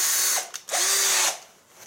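An AEG BS14 G3 Li cordless drill driver whirs loudly in two short bursts, the second longer and steady, then winds down, with no talking.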